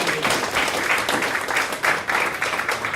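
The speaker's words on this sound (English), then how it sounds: "let's give a nice round of applause for Chris coming all the way from Berkeley" Audience applause for a guest speaker at a lecture on homelessness, dense steady clapping from a sizeable crowd filling the room for several seconds, loud and even with no talk over it.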